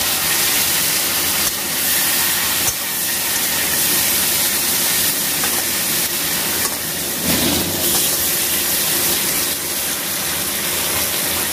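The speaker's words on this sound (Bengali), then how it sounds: "এবারে কেটে রাখা টমেটোগুলো এতে দিয়ে দেওয়া হচ্ছে।" Chopped tomatoes hitting hot oil with ground ginger, cumin and chilli paste sizzle loudly and steadily for the whole stretch, a dense continuous frying hiss with occasional stirring scrapes, close and with no voices, while a cauliflower fish curry (macher jhol) is cooked.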